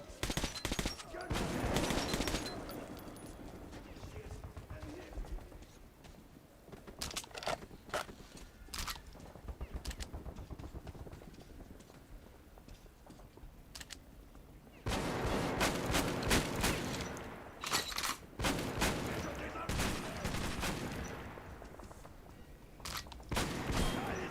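Turret gunfire in Metro 2033 rattles in long, dense automatic bursts, loud and close, stopping for a while and then returning with heavy rapid fire, with no talking over it.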